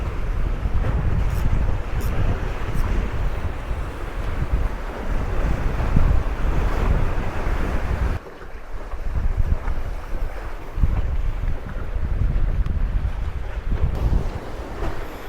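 Continuous rushing sea waves at a harbour on the Korean coast, with heavy wind buffeting the microphone, a steady broad roar throughout with one brief dip.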